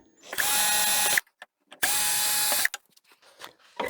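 A power drill removes screws from the aluminium piece of an old 42-inch LG plasma TV, whirring loudly in two bursts of about a second each with a quiet pause between them and faint handling noises after.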